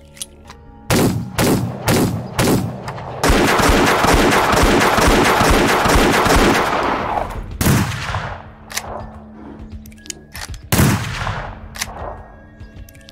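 Gunfire in the Roblox game Wild West, aimed at a bear: loud separate shots at first, then a long dense volley of rapid rounds, followed by a few more sharp, echoing single shots, all close and without talk.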